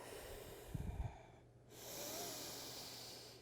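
A faint, soft breath pushed out through the nose during a power vinyasa yoga flow, with a brief snort-like puff followed by a longer airy hiss of exhalation in a quiet room.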